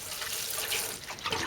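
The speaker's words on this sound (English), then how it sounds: "just give it a little bit of water" Water poured from a can onto multi-purpose compost in a seed tray, a steady soft splashing and trickling that runs continuously, close and fairly loud, with no talking.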